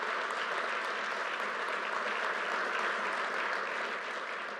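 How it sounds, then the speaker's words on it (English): Steady applause for Port Authority employees at a LaGuardia Airport terminal completion event, a continuous even wash of clapping from a large audience throughout, heard at moderate distance. "round of applause to the Port Authority employees who makes it happen."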